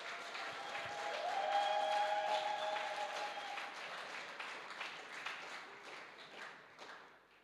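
Applause from a conference audience honoring the social department, sustained broadband clapping from a crowd that swells early, then slowly thins and fades toward the end, with no talking over it.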